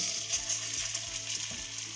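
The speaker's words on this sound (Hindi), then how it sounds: "इसमें हम गोंद को फ्राई करेंगे।" Gond, an edible gum, fries in ghee over a low flame, giving off a steady close sizzle with faint crackles and no voices.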